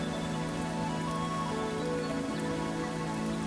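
Rainfall patters in a steady, even wash over a low sustained tone, continuous and unbroken with no voices.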